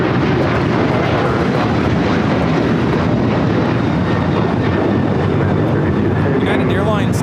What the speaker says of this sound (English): United Airlines 2667 taking off to Washington Dulles on the 737-900ER